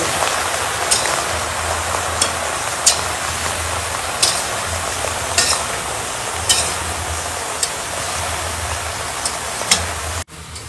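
Taro leaves are stir-fried in a pan with fried hilsa fish, a constant close sizzle punctuated by regular spatula scrapes and clacks, with no voices.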